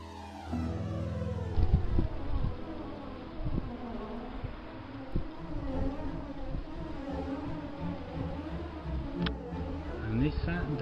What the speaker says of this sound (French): Un essaim d'abeilles à Malissard.